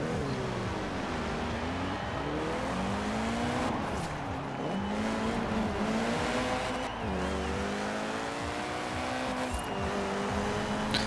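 A Volkswagen Golf race car on wide semi-slick tyres in Forza Horizon 4, its engine revving up and down through gear changes as it drives at speed, loud and continuous with no talk over it.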